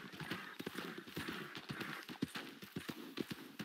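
Horse hooves clip-clop in a quick, steady trotting rhythm in the video game Red Dead Redemption, close and continuous, with a faint rushing background.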